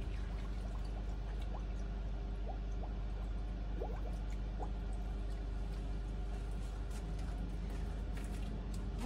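Water pouring and dripping onto hydrangea plants in a garden bed, a steady continuous wash of liquid with small splashes, close and fairly even throughout, with no talking.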